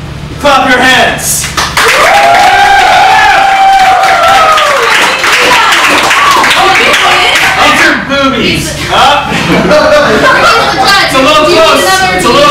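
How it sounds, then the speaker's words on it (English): A live improv theatre audience at a festival show claps and cheers loudly in a sustained burst, with shouts and whoops rising and falling over the applause while a host's amplified voice talks through it. "if you are on the side of the boys, clap your hands"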